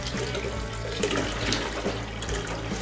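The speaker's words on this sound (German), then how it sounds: "Ein bisschen Wasser fehlt noch." Water running from a tap into a sous-vide water bath set to 56 degrees, a steady splashing gush with small gurgling surges, close and moderately loud, with no talking.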